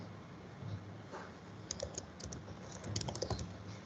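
Typing on a computer keyboard, close and quiet, with irregular bursts of soft clicking keystrokes that quicken toward the end.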